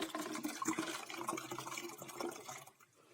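Old garlic-infusion liquid splashes and gurgles as it is poured out steadily for a few seconds, close by, then trails off into quiet.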